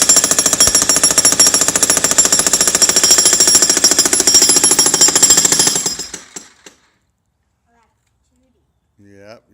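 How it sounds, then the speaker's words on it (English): A jackhammer breaks concrete with loud, close, rapid continuous hammering that stops abruptly after about six seconds, leaving near silence before a brief voice at the end. "baby girl on the jackhammer"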